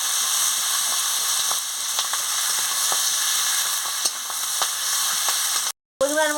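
Vegetables and spices frying in a pan with fish curry and malabar spinach cooking, a steady close sizzle with light stirring scrapes, ending in a brief cut and a voice.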